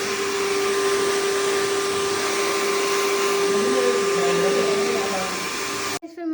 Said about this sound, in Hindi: तो बस अभी इसके बाद करेंगे हम ड्रायर।